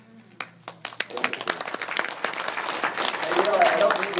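Applause breaks out in the audience, starting as a few scattered claps and swelling into a fuller, denser round that keeps building, with a voice heard over the start.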